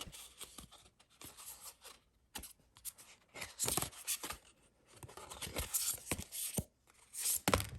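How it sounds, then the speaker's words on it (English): A Crystal Oracle card deck being shuffled by hand, a steady series of crisp riffling and flicking bursts with brief pauses between them. "I'm going to shuffle the Crystal Oracle deck now"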